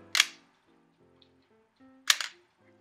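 A Pentax K1000 35mm film camera fires its shutter. Two crisp mechanical clicks sound close, about two seconds apart, with near silence between them and no talking.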